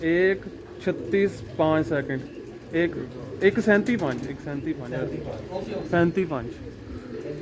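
Pigeons coo in repeated soft bursts close by in a loft, with someone talking intermittently over them.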